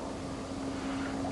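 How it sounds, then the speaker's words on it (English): Steady wind blowing outdoors in February, a continuous broadband rush with a constant low hum beneath it, fairly loud and unbroken throughout, with no voices. "Look at that wind blowing."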